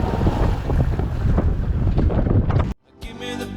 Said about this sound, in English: We're going sailing with our friends on La Luna.